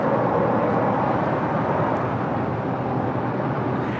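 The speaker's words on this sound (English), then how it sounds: "This is Air Premia 102 departing to Seoul on the 787-9 Dreamliner" An Air Premia Boeing 787-9 Dreamliner departs from the north side of the airfield with a steady, loud, broadband jet roar that holds for the whole stretch, and no one speaks.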